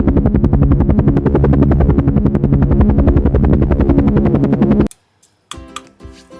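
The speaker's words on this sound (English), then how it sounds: "This is fire helicopter." A toy fire helicopter runs with a loud, steady, rapid whirring and clicking rotor buzz for about five seconds, then cuts off abruptly, followed by brief faint handling clatter.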